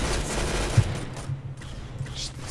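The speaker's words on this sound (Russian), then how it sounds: "Маленький мальчик нашел пулемет!" Machine-gun fire from a Roblox Arsenal match, heard as a dense, steady rattle of game gunfire that carries through the whole stretch, with one sharper hit near the start and no voices on top.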